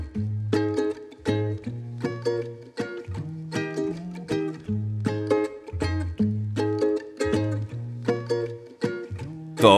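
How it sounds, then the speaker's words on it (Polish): A ukulele is plucked in a steady strumming rhythm of bright, quickly decaying chords, repeating over roughly ten seconds with no other sounds. "To ukulele."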